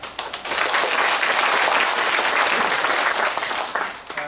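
An audience at a humanities lecture bursts into loud, dense applause that swells quickly after a few opening claps, holds steady, then thins out toward the end.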